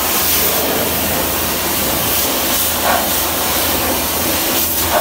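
A pressure washer jet sprays hard onto the engine of a yellow Mitsubishi Pajero TR4 at a car wash, a loud, unbroken hiss that stays close throughout.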